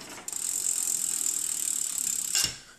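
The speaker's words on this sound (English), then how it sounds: "the rear wheel is a little out of round, so you might hear the rear brake" A bicycle's rear brake rubs against an out-of-round rear wheel on a belt-drive bike, heard as a close, steady hissing whir that holds evenly for about two seconds and then swells briefly before stopping, with no talk.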